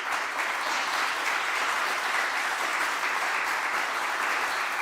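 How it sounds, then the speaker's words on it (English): A festival audience in Vienna applauds steadily after a Bulgarian music performance on stage; dense, even clapping fills the whole stretch at a moderate distance, with no voice over it. "A big applause."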